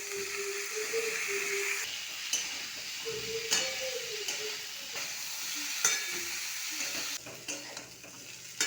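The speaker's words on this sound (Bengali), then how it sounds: "এইভাবে একটু লালচে লালচে করে ভেজে নেব।" Cauliflower and potatoes fry in hot oil with salt and turmeric, a close, continuous sizzle broken by several sharp scraping stirs of a spatula in the pan.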